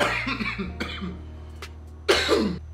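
Two or three sharp, loud coughs close by, separated by short pauses over a low steady hum.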